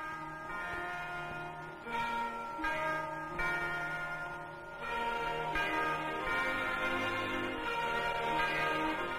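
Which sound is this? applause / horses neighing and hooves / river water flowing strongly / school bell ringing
school bell ringing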